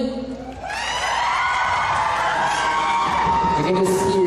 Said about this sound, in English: You can just hear the reaction and the response from the crowd.